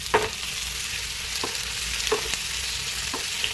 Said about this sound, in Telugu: కొంచెం ఉడికిన తర్వాత కొంచెం అల్లం వెల్లుల్లి పేస్ట్ యాడ్ చేసుకోవాలి.